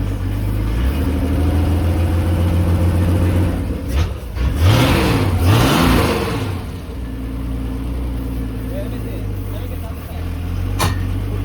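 A boat engine running in a steady rumble that sounds like a Jeep Cherokee, with a rising and falling rev swell partway through and people talking nearby.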